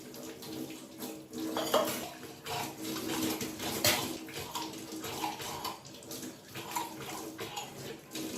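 Running water splashes steadily as brass temple utensils, scrubbed with pitambari powder and lemon, are rinsed and handled, with occasional clinks of metal against metal throughout and no talking.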